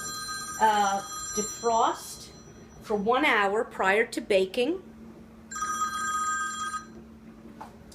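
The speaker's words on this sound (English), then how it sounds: "my phone's ringing" A phone rings in a home kitchen, two bursts of bright trilling bell tone, while someone talks over the first ring and keeps talking before it rings again on its own.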